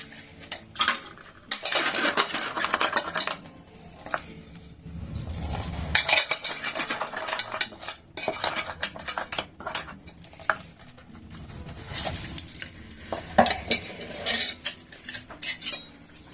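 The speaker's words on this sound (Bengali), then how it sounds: "এখন এই মশলাগুলো আমি আচারের সাথে মিশিয়ে দিলাম সব" A utensil scrapes and clinks against a bowl or jar while spices are mixed into a jujube (kul) pickle, with bursts of rattling and scraping that come and go with quieter gaps, close and moderately loud.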